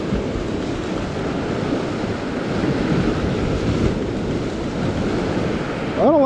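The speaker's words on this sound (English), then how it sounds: "I don't like how close those waves are getting." Ocean surf rolls and rumbles continuously with wind buffeting the microphone, a steady wash of waves close by.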